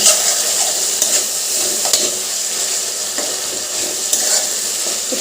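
Spice paste fries in a pan with fried potatoes, giving a loud, constant sizzle close up, broken by scraping clicks from stirring at irregular intervals.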